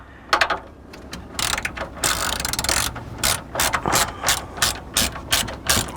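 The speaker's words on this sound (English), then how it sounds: "and then I just have a 3/8 ratchet" A 3/8 ratchet loosens the battery hold-down on a 2015 Subaru Forester, giving close, loud bursts of rapid clicking in uneven spurts with short pauses, and no talking.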